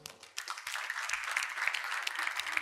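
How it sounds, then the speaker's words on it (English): A talk audience gives itself a round of applause, a dense burst of clapping that rises after a brief quiet start and stays steady and fairly close to the end. "Give yourself a round of applause."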